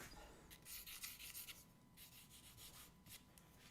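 An eraser or rag rubs over paper on a charcoal drawing of a farm track, faint and close, in quick repeated scrubbing strokes.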